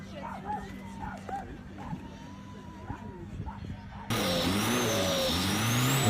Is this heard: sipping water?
no